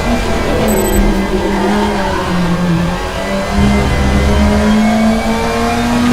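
Race car engine in the racing game RaceRoom, a loud, steady, droning note that dips and shifts as the car brakes and drifts through a corner, heard alone without talk.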